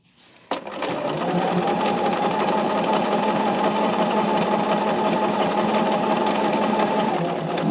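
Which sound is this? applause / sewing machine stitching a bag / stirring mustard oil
sewing machine stitching a bag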